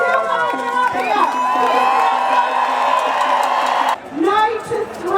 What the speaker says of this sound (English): The crowds are going all the way down there and they're still coming up here.